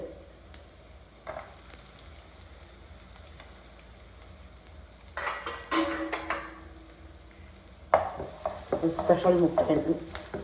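Garlic sizzles in melted butter in a hot pan, a steady frying hiss that flares loudly as it is stirred, with clattering spoon strokes near the end.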